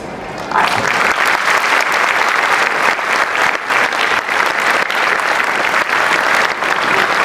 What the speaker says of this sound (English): And the loudest clap should come now